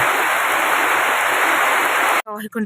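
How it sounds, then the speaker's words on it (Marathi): Heavy rain pours down in a steady, loud broadband wash during a storm with wind and lightning, continuous and close before cutting out abruptly near the end, where a voice briefly speaks. "पाऊस एकदम जबर येतोय"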